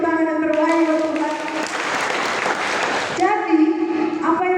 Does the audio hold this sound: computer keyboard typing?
no